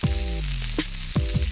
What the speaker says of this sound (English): Little sizzling. Right, I could hear a little.